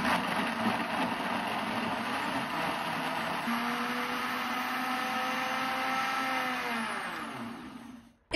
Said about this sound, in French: Et je vais les mixer avec un verre d'eau